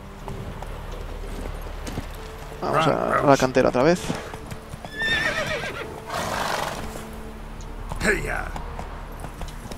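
Horse in The Witcher 3 video game trots with rhythmic clip-clopping hooves and lets out whinnies, while a player talks over the game sounds.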